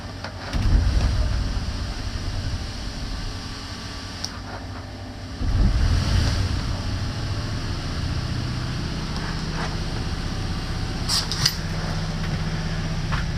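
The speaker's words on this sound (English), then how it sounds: "So now that the generator runs, which I can start from the inside" An RV generator set runs steadily throughout, a constant low mechanical drone with a brief louder surge midway, heard alone without talk.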